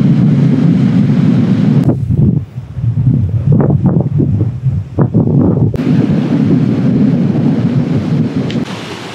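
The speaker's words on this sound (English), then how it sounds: "And then there are many waves crashing over there." Heavy wind buffets the microphone near a shallow reef off the coast outside Dili, Timor-Leste, while waves break and rumble in the distance under the roar.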